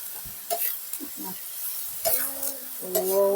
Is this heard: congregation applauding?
no